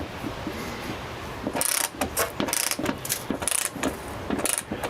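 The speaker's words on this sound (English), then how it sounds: "you certainly can do this with just, a ratchet and a socket like this" Hand ratchet with socket tightening bolts on a John Deere mower deck during a bearing replacement, giving rapid clicking bursts in several quick strokes, close and clear over a background hum.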